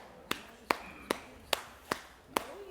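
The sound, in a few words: tapping on knees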